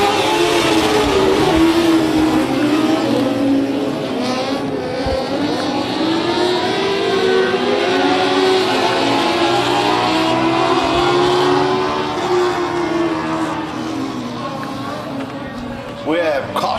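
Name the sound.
modified race cars accelerating at race start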